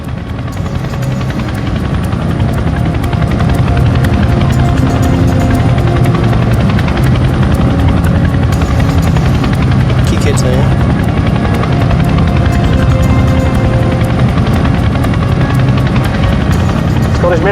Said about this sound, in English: The Chinook arrives in Scottish airspace.